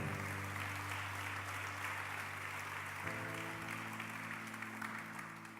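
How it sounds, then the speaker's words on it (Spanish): Sustained applause from a church congregation, steady and full, with a droning musical tone underneath that shifts partway through. "Dele un aplauso fuerte al Rey."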